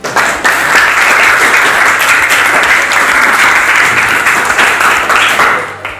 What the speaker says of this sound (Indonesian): beri tepuk tangan untuk semua dulu